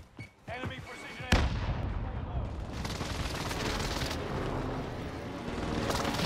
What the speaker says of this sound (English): Enemy precision airstrike. Stay alert.